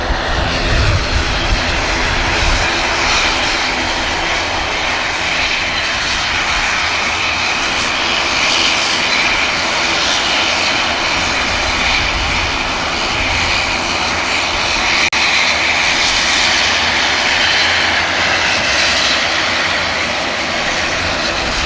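A Turkish Airlines jet bound for Istanbul takes off from Manchester Airport, its engines a loud, sustained roar with a hissing high whine that holds steady and swells slightly in the latter half.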